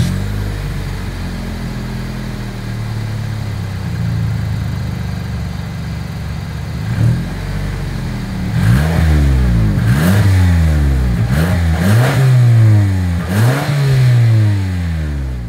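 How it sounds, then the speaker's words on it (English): A 2024 Toyota Camry idles with a low, steady exhaust rumble, then is revved in several quick, loud blips, each rising and falling in pitch, heard near the exhaust with no talking. "As always, here is that exhaust clip."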